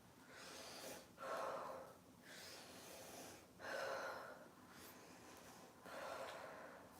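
Someone demonstrates a breathing technique for exercise, with slow rhythmic breaths and alternating longer rushing inhales and exhales close to the microphone, about four cycles with no talking.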